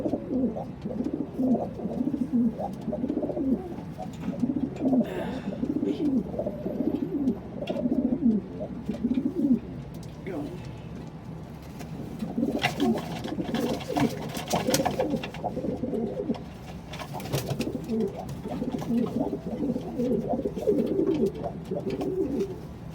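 Pigeons coo steadily in a low, murmuring chorus, close by, with overlapping calls through the whole stretch and brief rustling bursts midway.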